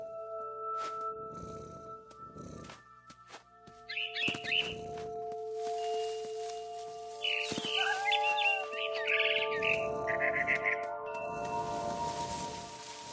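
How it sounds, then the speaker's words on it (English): A barn swallow chirps in the video game What Remains of Edith Finch: faint, quick twittering bursts over a steady tonal ambient hum, with soft rustling and fluttering now and then. "I heard chirping outside my window. It was a barn swallow going back to her nest."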